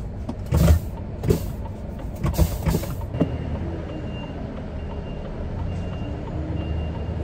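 A truck backing up sounds a series of loud, evenly spaced reversing beeps close by, which stop after a few seconds and leave a low engine rumble idling on a street.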